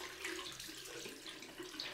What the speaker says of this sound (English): I go to the cold and just give it a flash rinse in cold water after that.